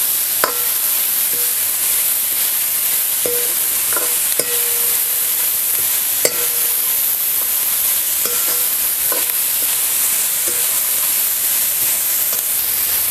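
Onion and tomato sauté in a little oil in a kadhai for misal pav, a constant loud sizzle with scattered metallic scrapes and taps of a spoon stirring, no voices.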